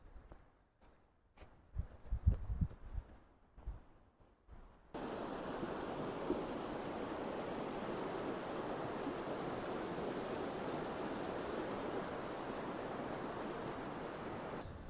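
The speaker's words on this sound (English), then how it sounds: "Now, I most definitely hear water over this ridge." Rushing water from a waterfall beyond a ridge, a steady broadband roar that starts suddenly after a few seconds of quiet footsteps and rustling outdoors, then continues evenly at a moderate, distant level.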